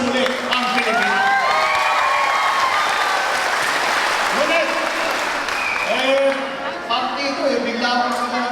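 An audience at a Christmas bingo campaign event in the Philippines claps steadily and loudly throughout, with cheers, whoops and children's shouts mixed into the crowd noise.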